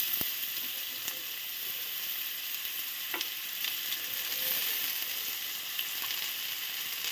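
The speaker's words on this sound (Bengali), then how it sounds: "আলুটা আগে আমি ভেজে নেব।" Potato pieces fry in hot mustard oil with a constant close sizzle and crackle, with a few sharper pops scattered throughout and no talk.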